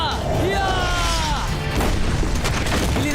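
Rapid cartoon machine-gun fire blasts in an animated space adventure, loud and dense, mixed with booms, crashes and sweeping effects, with voices faintly underneath.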